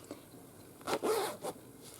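A zipper on a small lined fabric pouch is pulled in a few quick, close rasping strokes, two longer zips and a short one, over a quiet room.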